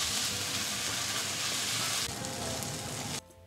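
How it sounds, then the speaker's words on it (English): Crumbled tofu fries in a pan with a dense, continuous loud sizzle that drops slightly partway through, then cuts off sharply near the end. No voices. "just keep your pan moving until the tofu will dry up"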